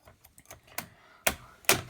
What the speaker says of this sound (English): You want to pop out the keyboard.